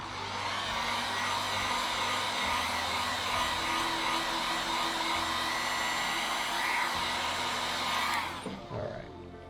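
A hair dryer blows steadily on an alcohol ink flower painting. It gives a loud, constant whirring whoosh for about eight seconds, then cuts off and winds down into quiet.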